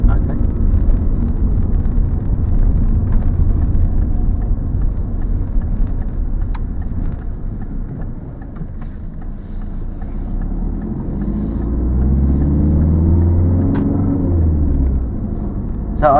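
A car moving during a driving lesson while practising a left turn, with a steady low engine rumble and road noise throughout and a deeper hum building near the end; people talk inside the car.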